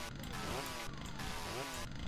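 The chainsaw weapon in the video game Brutal Doom revs with a harsh, continuous buzzing snarl that surges in repeated pulses, loud and dense throughout.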